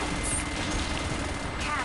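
Rockets launching in the futuristic racing game Wipeout, a dense roaring burst of weapon fire that fills the short moment loudly and continuously, with no clear separate shots.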